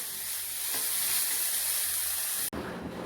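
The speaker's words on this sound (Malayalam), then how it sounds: "പച്ചമുളക്. ഇത് വഴറ്റിയെടുക്കാം. നന്നായി വഴറ്റിയെടുക്കാം." Green chillies, shallots and onion sauté in a hot pan for a Kerala koorkka fry, giving a steady close sizzle and hiss throughout, with a brief dip near the end.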